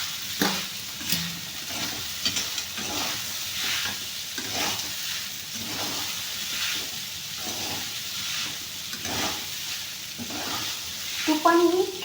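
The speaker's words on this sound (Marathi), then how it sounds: "आता आपण याच्यामध्ये आपला भिजवलेला साबुदाणा टाकून मिक्स करून घेऊया।" Soaked sabudana being mixed and fried in ghee with chillies for khichdi, a steady close sizzle with regular spatula stirs scraping the pan, ending in a brief clatter.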